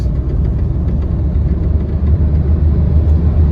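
Renault Duster diesel AMT car driving on cruise control, a steady low engine rumble and road drone from inside the cabin, continuous and even throughout with no talking.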